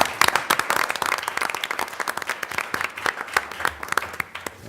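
Applause at a school board meeting, a steady patter of many hands clapping together, fairly close and lively throughout, with no talking over it.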